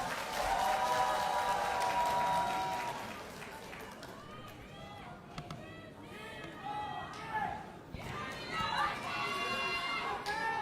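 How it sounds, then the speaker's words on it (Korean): At a Democratic Party leadership candidates' speech rally, a large crowd applauds and cheers, with a steady wash of clapping under scattered shouting voices and chatter that swells and fades over several seconds. "뜨거운 박수와 함성 부탁드립니다."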